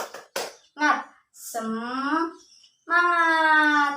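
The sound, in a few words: children doing the rhythmic 'tepuk semangat' clap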